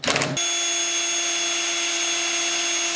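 A power drill turns a tap into boat top tubing while making a banded top of Stamoid marine fabric, giving a short burst and then a steady, sustained whine with a dragging tone, close and loud.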